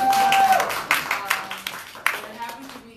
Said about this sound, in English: Give yourself another applause.